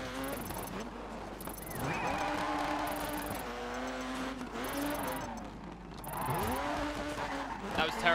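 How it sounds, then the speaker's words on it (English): Handbrake skids from a car in the Dirt 3 rally game, tyre screech and engine revving in repeated swells under steady music, with a voice talking over parts of it. "Tap of the handbrake."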